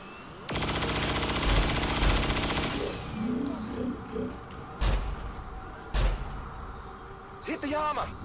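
Soldiers open fire in the XCOM 2 video game: a long rattling burst of automatic gunfire, then scattered heavier shots and impacts, with a brief voice near the end.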